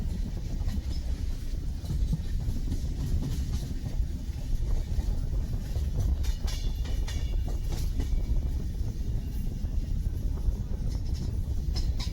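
A passenger train rolls into Rayagada railway station, heard from on board as a steady low rumble and rattle of wheels on track at moderate volume, with no voices.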